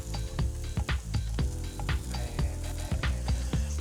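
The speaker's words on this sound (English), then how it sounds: "First thing I want to do is throw the onions down." Onions sizzle loudly on a Blackstone flat-top griddle while being cooked for smash burgers, with a steady frying hiss broken by repeated sharp metal spatula scrapes and taps throughout, close up and without talk.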